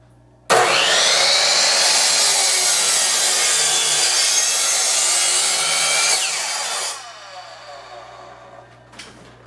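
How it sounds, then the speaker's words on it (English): A power saw cuts small strips from a piece of 2x4 wood for a Cub Scout Pinewood Derby car, a loud, close, continuous whining buzz of about six seconds that then winds down to quiet. "I'm just gonna have to cut little strips and then make them the right size and"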